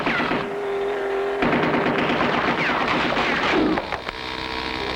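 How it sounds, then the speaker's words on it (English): Gun turret firing in an old cartoon, a steady rattling barrage mixed with engine drone and whistling effects, loud and continuous throughout with no talking. "They're firing on us from the gun turret."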